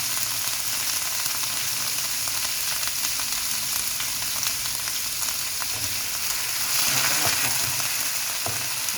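Minced pork frying with garlic in a pan, a dense continuous sizzle with stirring scrapes, loud and close throughout with no voices.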